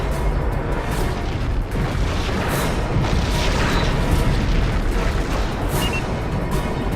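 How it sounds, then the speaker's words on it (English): A Borg vessel explodes in the space game Star Trek Legacy as a loud, sustained booming rumble that rolls on without a break. "Borg vessel destroyed."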